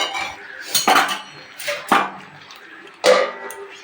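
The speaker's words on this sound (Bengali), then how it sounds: "তো চলো এবার একটু ঢেকে দিই" A lid goes onto a pan of fish cooking in oil, with three distinct metallic clanks and clatters close up, separated by short quiet gaps.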